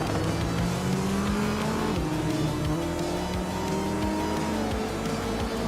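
Video game race cars, including a 1987 BMW 325i E30 Touring, drone steadily with layered engine tones and rising, shifting pitches, continuous and loud with no talking.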